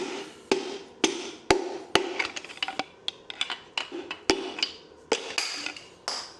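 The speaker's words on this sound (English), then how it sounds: "I'm smacking on the piston" Hammer blows striking an engine piston inside the block, sharp metallic knocks about once a second, then a quicker flurry of lighter taps, close and loud with no talk.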